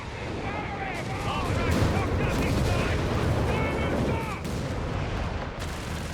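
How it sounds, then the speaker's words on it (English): Nebelwerfer rocket barrage in Company of Heroes 3, a dense, sustained roar of launches and blasts rumbling for several seconds with battlefield noise layered over it. "Another weighty volume of rockets here."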